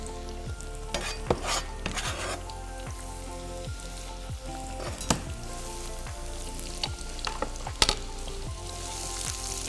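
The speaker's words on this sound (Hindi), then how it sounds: "कुकिंग ऑयल डाला आपने, इसके अंदर हम अपनी रफली चॉप प्याज को यूज़ करेंगे" Roughly chopped onions frying in cooking oil: a loud, dense crackling sizzle with repeated sharp spatters and a few stirring knocks, no voices.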